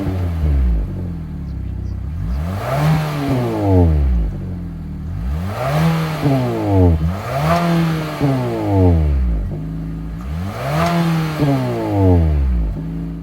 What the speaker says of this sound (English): let's fire up this 2-liter turbocharged 4-cylinder engine and hear how she sounds